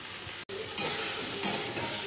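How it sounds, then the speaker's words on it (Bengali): Leftover fried okra and potatoes being reheated in a pan give a close, steady sizzle with scraping stirs, a brief cut-out early on, then continuous crackling hiss. "তো ঢেঁড়স আলু ভাজা গরম করি"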